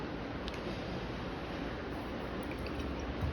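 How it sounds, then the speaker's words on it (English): Soft, continuous swishing and dripping of a paintbrush being rinsed out in a water cup while painting homemade Christmas ornaments, heard alone and close against a steady background hiss. "Rinse my brush out."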